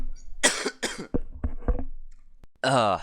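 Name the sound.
cough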